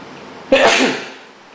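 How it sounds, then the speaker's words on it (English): A single loud sneeze, close up, sharp burst trailing off over about a second. "Excuse me while I sneeze."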